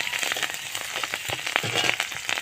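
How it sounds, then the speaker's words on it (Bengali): Slit green chillies fry with a steady, close sizzle in a pan of oil with whole cumin, with occasional stirring scrapes over it, continuous throughout. "কাঁচা লঙ্কা চিরে দিয়ে দেব। এই দেখো, একটু নেড়ে নিলাম।"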